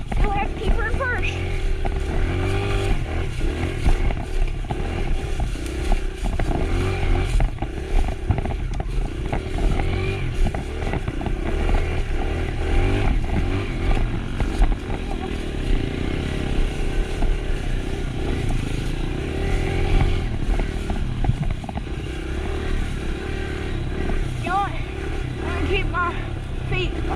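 Dirt bike held in first gear climbing a muddy single-track mountain trail, the engine droning loud and steady with constant revving and clatter while the rider talks over it throughout.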